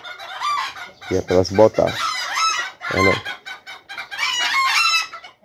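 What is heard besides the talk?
bantam chickens clucking and crowing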